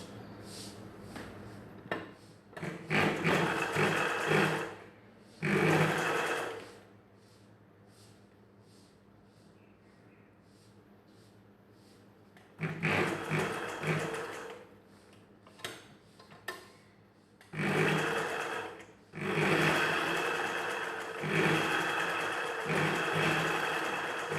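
A sewing machine stitching a back open blouse runs in several short and longer bursts of close, buzzing whir, separated by quiet pauses where the motor stops.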